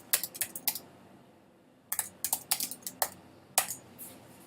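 Someone types on a computer keyboard, entering an address: a close burst of quick key taps, a pause, then a second irregular run of clacks, with no voices.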